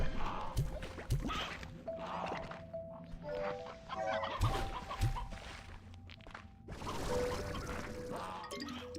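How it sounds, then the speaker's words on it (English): Hen-hen chickens in the video game Slime Rancher 2 cluck and squawk repeatedly in a busy, close chorus, with short pecking thuds and rising calls overlapping through the clip. "Damn, that's a fuck ton of hen-hens."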